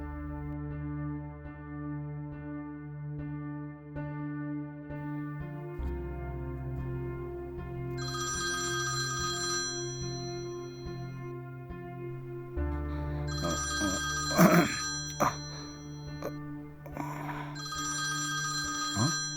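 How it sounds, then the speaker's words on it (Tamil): A telephone ringtone sounds in repeated bright bursts separated by short pauses, clear and fairly close, in a Tamil short film scene with a caller waiting on the line. "நான் ஒரு தடவை அவருக்கு ஃபோன் பண்ணி பார்த்துட்டு வரேன்"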